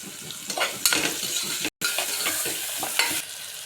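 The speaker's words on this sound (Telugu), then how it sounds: "ఉల్లిపాయలు, బ్రౌన్ కలర్ వచ్చేదానికి వేయాలి. ఉప్పు వేసుకోండి." Onions frying with salt in a pan as they brown, a steady sizzle broken by scraping stirs and a brief gap of silence partway through, close and moderately loud with no talking.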